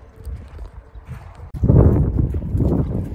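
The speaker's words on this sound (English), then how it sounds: "we're letting her have a horse ride" An old buckskin gelding carries a young rider at a slow, steady walk, its hooves clip-clopping in a continuous uneven rhythm, quieter at first and then louder and closer, with no talking.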